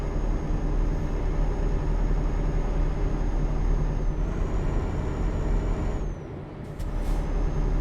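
A truck in Euro Truck Simulator 2 climbs a steep uphill mine road while braking, a steady engine drone with a sharp air-brake hiss and release near the end.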